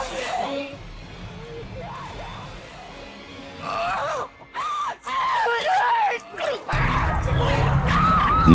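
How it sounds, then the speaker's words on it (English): Dramatic narration from the opening scene of Jaws, mixed with tense music and rising wailing tones, ending in a loud, strained shriek of a woman screaming in terror. "The woman threw her head back and screamed a guttural cry of terror."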